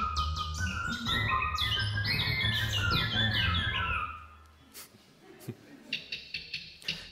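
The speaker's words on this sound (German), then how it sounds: "Das ist der Ruf, dieses Tixen, das ist ja nicht der Gesang, sondern der Ruf." A recorded bird gives a series of sharp ticking calls, first a busy chorus of bright chirps over background noise, then thinning into isolated, evenly spaced ticks standing alone near the end.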